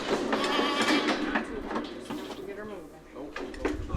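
Goats bleat repeatedly while being worked in a metal handling chute during health checks, their wavering cries close and overlapping with people talking and a few clanks of the chute.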